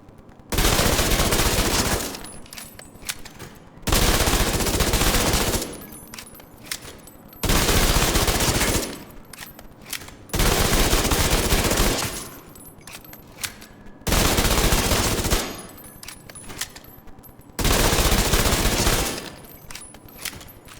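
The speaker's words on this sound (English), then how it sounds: "3rd round, Tommy gun going first" An M1928 Tommy gun fires in The Division 2 during an SMG tournament round. It rips out in long sustained bursts of about two seconds each, with short pauses between them and faint clicks and handling noises in the gaps.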